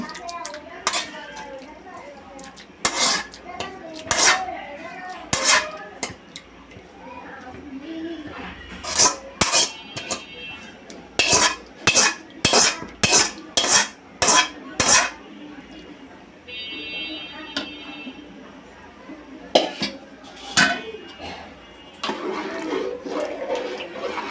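Fried chicken pieces go into a cooking pot for chicken kabsa biryani, with bursts of sharp metallic clanks and scraping of a spoon against the pot, close and loud, and talking in between.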